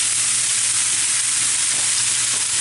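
Courgette sizzles loudly in a hot pan, a dense, steady hiss of frying that continues without a break and stays close, with no voices over it.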